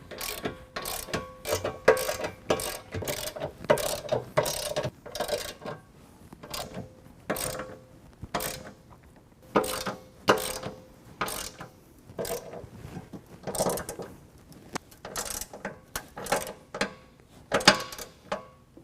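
A ratchet tightens hardware on a 2022 Ford Bronco tailgate hinge, with repeated bursts of sharp clicking pawl strokes close up, separated by short pauses, and no talking.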